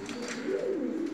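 Kara Komple pigeons, a paired couple kept in a loft, give a steady low cooing that rises and falls throughout, close and fairly loud with no talking.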